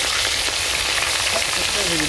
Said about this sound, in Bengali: আগে মাছগুলো ভাজছে।